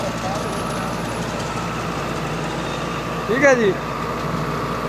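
A 60 HP tractor pulls a super seeder in creeper gear, its engine a steady low drone throughout, with a short louder burst of mechanical whine near the end and someone speaking briefly over it.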